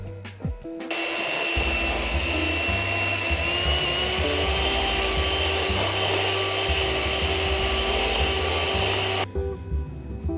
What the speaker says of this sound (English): we're going to mix this with an electric mixer on high speed for about 6 minutes